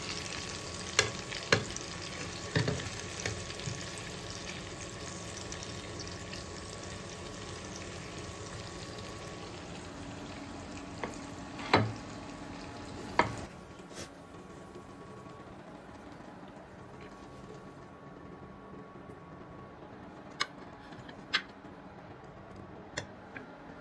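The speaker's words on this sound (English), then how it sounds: "I've added in the next batch of fish. Now we'll just let it fry." A batch of Kerala style fish fries in hot oil, with a steady sizzle and occasional sharp crackles and pops close by; the frying quietens somewhat toward the end, and no one speaks.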